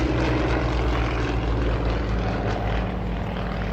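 A Yak-52 radial-engine propeller plane performing aerobatics at an air show, rolling through an eight-point roll, gives a loud, close, continuous throaty drone with a steady low harmonic hum and no voices.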